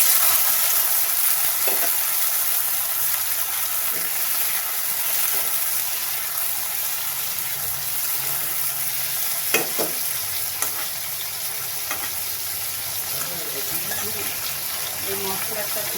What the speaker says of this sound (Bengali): এবার এই তেলেই আমি গাজরগুলো দিয়ে দেবো।